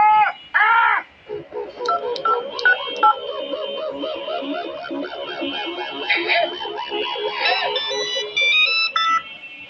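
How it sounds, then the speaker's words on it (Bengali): A run of cartoon telephone dialing tones, quick beeping key presses one after another, loud and close, with brief animated voices at the start. "পাপ্পু সুপারিকে ফোন করো"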